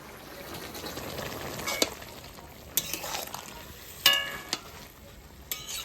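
Fish and green chili frying in a pan, a steady soft sizzle with scattered sharper crackles and a few brief clinks of stirring, close and moderately quiet with no talk.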